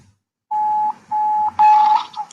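WhatsApp call ringing tone: three steady electronic beeps in a row, the last one brighter and overlapping a short burst of noise, heard clearly with no talking.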